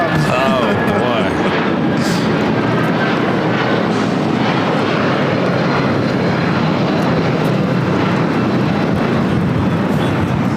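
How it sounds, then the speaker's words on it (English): A United Airlines Boeing 757-200 takes off at LAX, bound for Houston, producing a loud sustained jet roar that stays steady and broad throughout. "This is United Airlines 2069 taking off"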